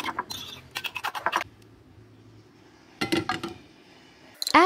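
Eggs being beaten with onions, salt, paprika and black pepper in a bowl: bursts of rapid scraping and clinking utensil strokes, two main flurries separated by a quiet pause, close and fairly loud.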